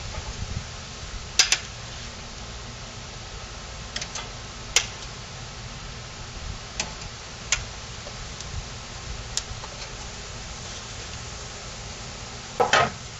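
Short ribs sizzle on hot grill grates over smoking white oak, a steady soft hiss punctuated by occasional sharp ticks and crackles.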